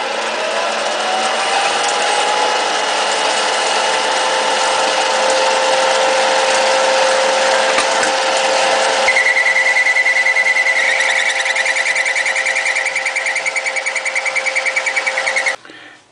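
A lathe turns a fountain pen section while a tenon is cut on it, giving a continuous close whirring hum. Partway through, a higher, steady whine joins in as the cut proceeds, and the sound stops abruptly at the end.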